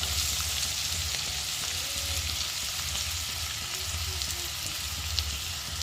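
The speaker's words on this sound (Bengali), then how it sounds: "এবার এর মধ্যে কুচনো পেঁয়াজগুলো দিয়ে দেওয়া হচ্ছে" Chopped onions sizzle in hot oil over a tempering of whole garam masala spices, a steady close frying crackle with a low bubbling undertone, unbroken throughout.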